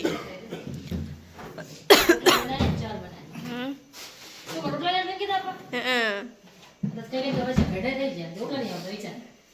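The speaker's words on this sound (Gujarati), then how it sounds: "બહુ ઉધરસ થઈ ઉધરસ થઈ જશે" A sharp cough bursts out amid close conversation, with people talking before and after it.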